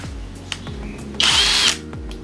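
An Europa HILT EBL12CD-K brushless drill driver in first gear, repeated short whirring pulses as the motor strains, with a brighter burst of drilling partway through, close and loud.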